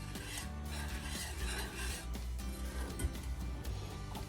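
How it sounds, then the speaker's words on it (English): A utensil scrapes and stirs continuously around a pot on low heat, a rough rubbing sound with light metallic clinks over a steady low hum. "Like I say, constantly stirring."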